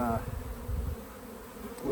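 Honeybees buzz at an open backyard hive, a steady low droning hum that swells and eases across the moment with no voices.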